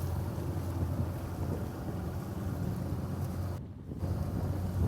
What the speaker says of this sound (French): Le moteur n'est pas trop bruyant.